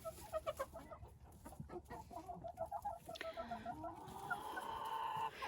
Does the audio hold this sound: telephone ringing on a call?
no